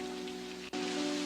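Steady heavy rain from a sudden shower falling on surfaces, a dense even hiss with a faint hum underneath and one brief dip partway through.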